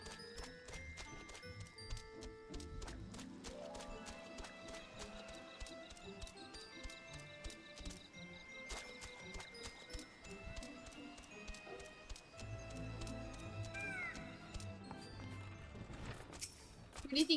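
Heavy, rhythmic thuds of creature footsteps in a video game, steady clomping steps repeating through the whole stretch, fairly faint, with light talk and other game sounds in the background.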